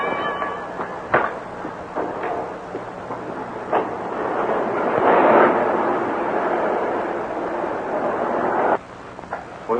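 An explosion in a 1936 film serial, a broad rumbling roar with scattered cracks and thumps that swells in the middle and then cuts off, with faint voices underneath.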